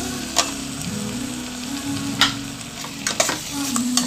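A large tomato sizzles in frying curry paste for a bottle gourd chicken curry, with a steady crackle under repeated scraping stirs and a few sharper clinks of the spoon against the pan, close and moderately loud.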